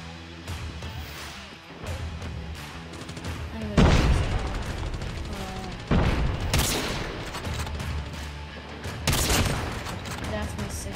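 Shotgun fire in Call of Duty Mobile amid a busy firefight, with several heavy booming blasts over dense continuous gunfire and game noise, while a voice talks.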